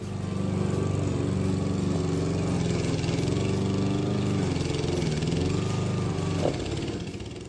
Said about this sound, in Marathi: सर्वात अगोदर त्यांनी जे जुनं गवत होतं त्याला प्रॉपरली मशीनच्या साहाय्याने कटिंग करून घेतली